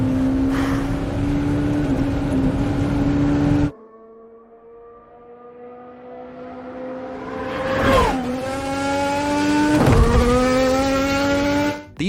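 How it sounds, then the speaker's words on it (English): An AI-generated race car engine drones loudly and steadily, drops off abruptly, then climbs back in rising and falling pitch sweeps as the car moves through corners, with a squeal-like swish near the end. "from the engine rising and falling through the corners to the driver's breathing inside the helmet"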